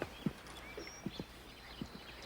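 Quiet, irregular hoof clops from a horse walking at a distance, a few soft knocks spaced apart with faint birdsong in the background.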